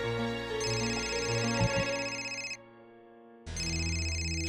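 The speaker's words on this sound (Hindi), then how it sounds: "सिंधिया जी का फोन है तो उठाइए ना" A telephone ringtone plays as a repeating electronic melody over a steady musical background, breaking off briefly before resuming, loud and close with no talk.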